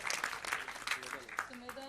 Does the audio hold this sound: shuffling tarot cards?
no